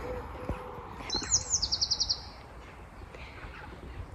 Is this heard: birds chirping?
yes